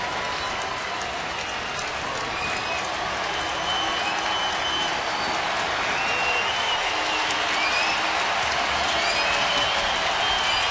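Baseball stadium crowd of about 23,000 on its feet, cheering and applauding as a steady, dense roar of claps and voices, with scattered whistles, at a Cleveland at Oakland game in 2009.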